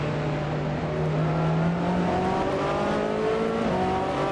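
Racing car engines in the Assetto Corsa video game, including a BMW close alongside, a continuous loud droning whine with pitches gliding up and down as the cars shift and accelerate together.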